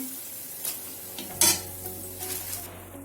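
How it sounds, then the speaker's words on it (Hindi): Dahi vada lentil dumplings sizzling in hot oil, with a soft steady frying hiss, a sharp loud clatter of a utensil against the pan, and light stirring scrapes, no talk. "बड़े डालते ही तुरंत ऊपर आ जा रहे हैं"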